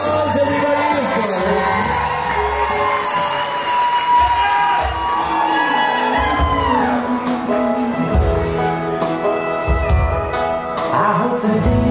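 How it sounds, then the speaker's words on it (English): Wedding guests cheer and whoop for Chad, a loud, sustained crowd roar with shouts and yells rising throughout, heavy low thumps now and then, and a voice over the noise. "Let's give Chad a big round of applause, everybody."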